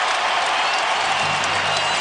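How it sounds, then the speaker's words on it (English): Basketball arena crowd of thousands cheering and applauding at a Blazers at Suns game, a dense steady roar of clapping and cheers filling the space without a break. "He's okay, and the crowd loves it."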